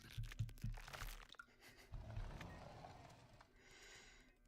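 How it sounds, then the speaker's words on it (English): Bone crunching in a horror video game, a quick cluster of sharp crunches and cracks up front, followed by quieter crinkling and scraping textures that fade out, all faint. "even with like the bone crunching sounds, that's just silly to me"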